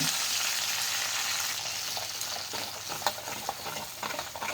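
Spice paste sautéing in a pan after fish has been fried, a continuous moderate sizzle with a few sharp spattering pops toward the end, close, no talking.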